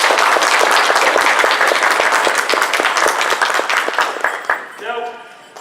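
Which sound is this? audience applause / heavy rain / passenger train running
audience applause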